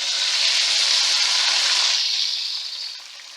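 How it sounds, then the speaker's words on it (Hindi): Loud hissing sizzle as a hot oil tempering is poured into sarson ka saag, strong at first then tapering off toward the end, with no talking. "अब मैं साग में तड़का डाल दूंगी।"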